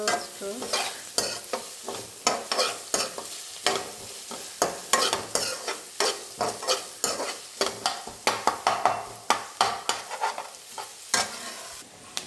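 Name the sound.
frying ginger garlic paste in a pan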